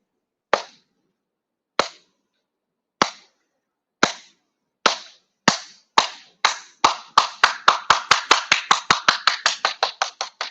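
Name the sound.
group solidarity clap getting faster and louder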